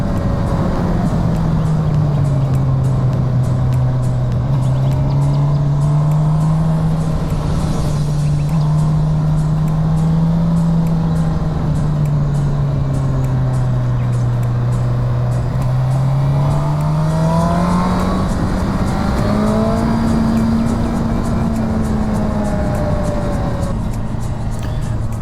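A motorcycle rides a winding mountain road toward the Allerheiligen waterfalls. A loud, continuous engine drone rises and falls in pitch with the throttle under constant wind rush, with no talking.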